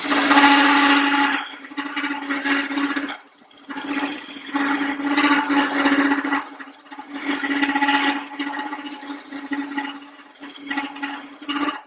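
A wood lathe spins a cedar snowman at about 1000 RPM with a steady motor whine, while a cutting tool scrapes and rasps against the wood in uneven bursts. It is close and loud, with no talking.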